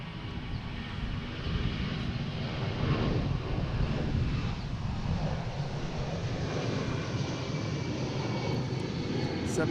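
Delta Boeing 757-200 jet at Boston Logan, bound for LAX, gives a sustained loud engine roar that swells slightly and holds steady, with some wind buffeting on the microphone.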